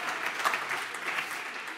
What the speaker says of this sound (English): Whoever was slow clapping over there, I heard that.